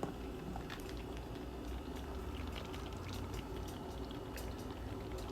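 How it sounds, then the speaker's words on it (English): Live crabs in a pot of boiling water, a steady close bubbling and gurgling with faint crackles, continuous and fairly quiet, with no talking. "They in there gurgling."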